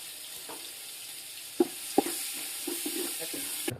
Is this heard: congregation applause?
no